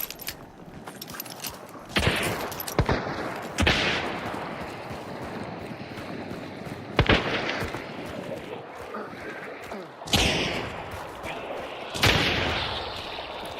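Sharp gunshots in a shooter video game, several loud reports spread over the span against a busy, rumbling game soundscape, with no talk.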